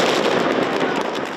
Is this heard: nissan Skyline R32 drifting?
no